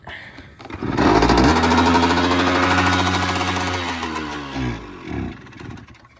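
A 1978 Kawasaki KE100 motorcycle engine starts and runs close by, a loud buzzing two-stroke idle that swells, holds, then fades and sputters near the end.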